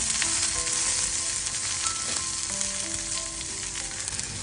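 Green peppers stir-fry in sesame oil in a pan, producing a dense, even sizzle up close with light stirring scrapes and no one speaking.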